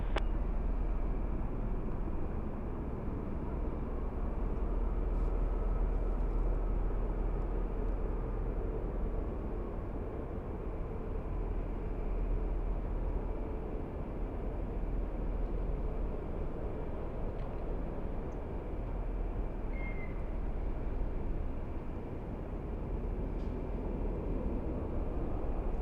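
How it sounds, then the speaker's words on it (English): Inside an airliner on a rolling takeoff from runway 24 left at LAX, a broad, steady engine roar and low rumble fill the cabin, swelling slightly and holding for the whole run with no voices. "That is what I call a rolling takeoff."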